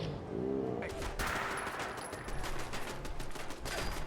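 Turret fire in Fallout 4, a dense run of rapid gunshot bursts at steady loudness throughout, with a brief voice-like tone near the start.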